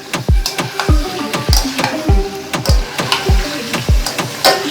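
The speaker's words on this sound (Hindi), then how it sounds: "एक दो मिनट हमने कलेजी को ऑयल में फ्राई किया है" Mutton liver (kaleji) frying in oil, with a regular rhythm of loud, close thuds and clanks against the pan over a constant sizzling bed, about two strikes per second.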